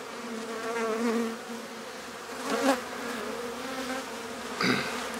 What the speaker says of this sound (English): See those bees? I don't know if you saw it, but they just went right to my hand, but they didn't sting it though.